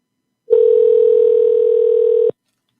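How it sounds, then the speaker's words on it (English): A telephone ringback tone sounds on an outgoing call, a single steady electronic tone lasting nearly two seconds before cutting off cleanly, clear and alone. "It's ringing. Good sign."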